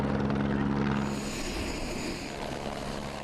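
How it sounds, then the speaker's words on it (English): A state trooper helicopter droning with a steady broadband rotor and engine roar, loud and continuous, easing slightly in level partway through, with no voices. "Even a helicopter ride from state troopers."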